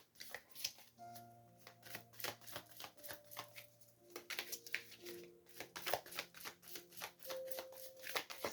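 Tarot cards shuffled by hand in repeated soft riffles and flicks, close and fairly quiet, with sustained soft musical tones playing underneath.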